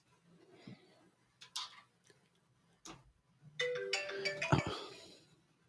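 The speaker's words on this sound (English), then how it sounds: "I have not heard that ringtone in like forever." A short electronic ringtone melody plays in a quiet room, preceded by a few scattered ticks and clicks, the tones bright and moderately loud.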